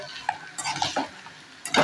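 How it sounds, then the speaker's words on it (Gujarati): A few light clinks and scrapes of a spoon stirring poha and potatoes in a pan, sparse and close, ending in a brief louder rustle. "હલાવવાનું છે ચમચેથી."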